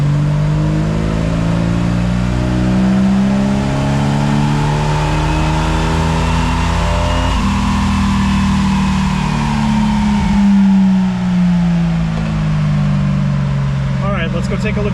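A Jeep Wrangler 4.0 engine fitted with an exhaust header revs up loudly on a dyno, its pitch climbing steadily in one long pull before easing off near the end.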